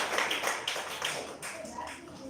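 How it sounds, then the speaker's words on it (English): Brief scattered clapping from a gathered audience, a thin round of applause that rises and fades over a couple of seconds, fairly quiet, with a voice faintly present underneath. "Give him a round of applause again"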